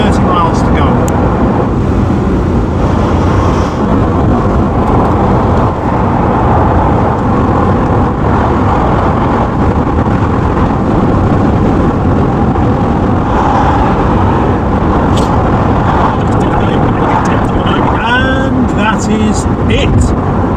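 An MG ZS 180 cruises along the M62 motorway, with a loud, steady road and engine drone filling the cabin for the whole stretch without pause.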